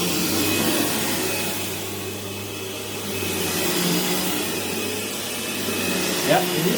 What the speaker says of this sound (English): This is a fairly lightweight vacuum, and or at least it drives like one.